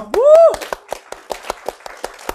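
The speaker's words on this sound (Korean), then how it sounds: "박수 한번 칠까요?" A classroom of students claps in time. A short voiced sound comes first, then a series of evenly spaced, sharp group claps follows in a steady rhythm, fairly close and clear.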